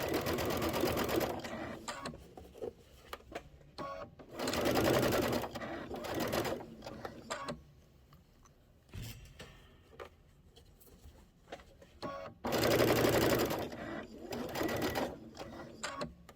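Sewing machine stitching a fabric storybook pocket pillow in bursts of rapid whirring, three loud runs separated by pauses, with someone talking quietly between them.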